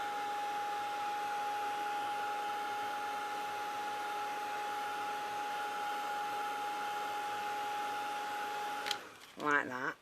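A heat tool melting embossing powder and luster runs as a steady, loud whirring hiss with a constant whine for about nine seconds, then cuts off, followed by a brief voice.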